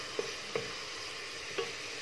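Deboned chicken breast frying in a hot pan, a steady sizzle with a few brief louder crackles as the pieces settle in, close and alone with no talking.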